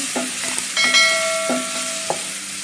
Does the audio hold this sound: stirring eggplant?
yes